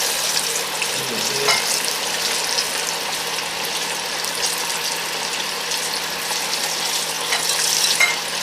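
Flour-dredged green tomatoes fry Southern style in a pan, a continuous crackling sizzle with faint stirring scrapes, steady and close throughout, no voices.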